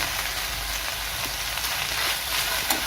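Mezhukkupuratti, a vegetable stir-fry, is stirred in a hot pan, giving a steady loud sizzle and frying crackle that lasts throughout, close up, with faint scraping from the stirring and no talking.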